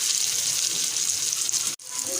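Shami kababs frying in ghee in a pan give a steady, bright sizzle that runs on, drops out for a moment, then comes back.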